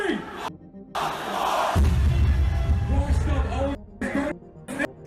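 A concert crowd at a show screams and chants against a rival, a loud, sustained wall of massed voices swelling after a brief lull and running almost unbroken to the end.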